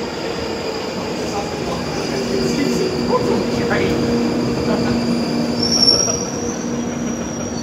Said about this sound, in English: train now approaching East Finchley Station is very rare.